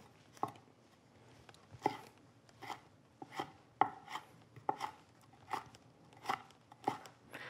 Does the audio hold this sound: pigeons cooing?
no